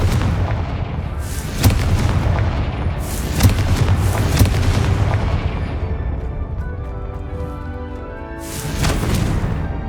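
Blasting spells burst in Hogwarts Legacy, with loud booming explosions around the 2 and 4 second marks and again near the end. Each blast trails into a rumbling decay over constant game ambience, with no speech.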